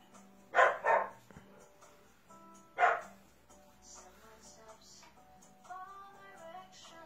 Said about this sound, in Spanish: Vamos a acompañar a Duna, que es mi perro.